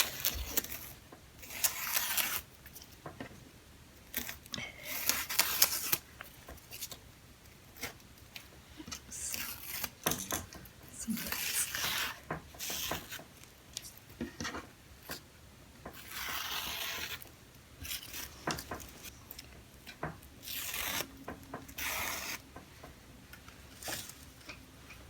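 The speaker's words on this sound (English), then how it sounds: "Right now, I can just go ahead and remove the tape" Tape peeled off embroidery fabric gives repeated close, soft ripping strips in short bursts, with scattered handling rustles between pulls.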